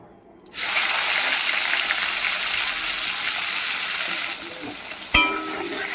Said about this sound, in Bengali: ভালো করে টমেটোকে আমি ভেজে নেব